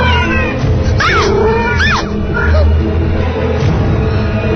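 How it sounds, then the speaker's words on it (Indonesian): A black cat meows several times, drawn-out and close, over a steady background bed of music and a voice narrating a horror radio drama. "aku melihat kucing hitam itu"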